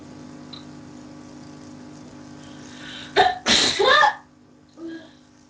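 A single loud sneeze bursts out over a steady electronic hum from an Amiga game setup, followed by a brief fainter sound as someone speaks a moment later.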